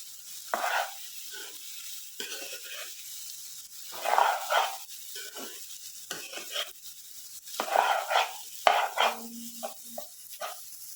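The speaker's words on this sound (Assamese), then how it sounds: "এইখিনি মই এইদৰে ভালদৰে লাহে লাহে মিক্স কৰি দিলোঁ" Veg fried rice stirred and tossed in a pan, with irregular scraping and clattering strokes and a soft sizzle between them, close by and fairly quiet.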